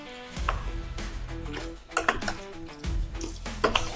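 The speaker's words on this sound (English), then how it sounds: "So just about done stirring here." White chicken chili ingredients stirred in a crock pot, a spoon tapping and scraping in irregular clicks and knocks, fairly quiet and close, without speech.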